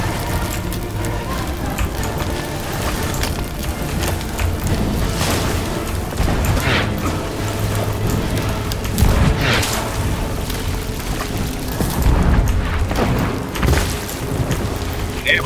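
Cannon fire and explosions crash again and again during a naval battle in the pirate game Sea of Thieves, heavy booms over a constant roar of sea and battle noise.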